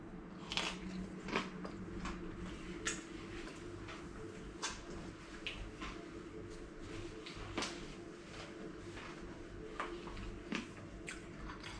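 A crunchy quesadilla is bitten and chewed close up, with repeated crisp crackling crunches in an irregular rhythm over a low background hum.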